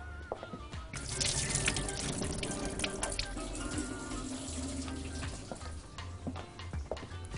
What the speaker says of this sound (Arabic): بس استنوا اصفي ميتها